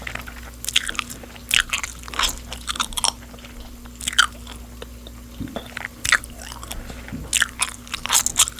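Close-up gum chewing during a calm cooking session, heard as repeated moist clicks and soft crunchy bites in an irregular rhythm, very near and alone.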